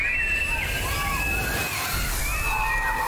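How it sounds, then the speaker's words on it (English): At an indoor water park, a tipping bucket dumps its load in a steady, rushing slosh of falling water, with excited voices shrieking over it. "You gotta get hit by the bucket."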